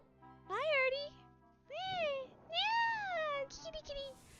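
A cat meows clearly three or four times, rising and falling wavering calls close to the microphone with short gaps, ending in a quieter chirp.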